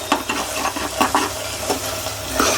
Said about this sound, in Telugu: ఈ టైంలో కొంచెం కరివేపాకు వేసుకోవాలి మనం చూడండి